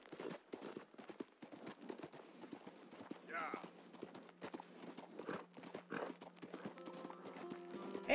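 A horse's hooves clip-clop steadily in Red Dead Redemption 2, a quick even rhythm of soft thuds running under someone talking throughout, with a brief musical tone rising near the end.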